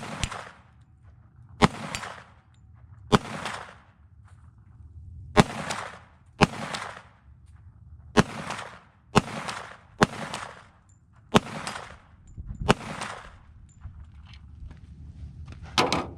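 A Tisas 1911 Night Stalker 10mm pistol fired outdoors with flashy-powder loads in Brazilian MagTech brass, about a dozen loud sharp shots at an uneven steady pace, each followed by a short echoing decay.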